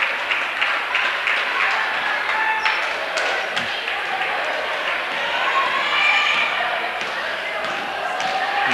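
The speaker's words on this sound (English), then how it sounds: "And he'll get a nice round of applause." Steady applause from a crowd in a school gym greets substitute player Elliott entering an eighth-grade boys basketball championship game, with sneaker squeaks and ball bounces scattered through the sustained clapping.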